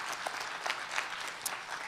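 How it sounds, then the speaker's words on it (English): Audience applause for pitch night finalists at a medtech event, a steady moderate wash of clapping hands from a crowd indoors. "can we give one more round of applause for all of our finalists?"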